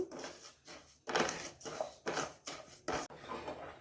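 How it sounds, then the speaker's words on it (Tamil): A spoon stirs sugar in a pan as it melts and caramelizes for homemade soy sauce, giving a series of faint, close scraping strokes with short pauses between them. "நம்ம இதை இப்படியே கிண்டி கொடுத்துட்டே வரணும்"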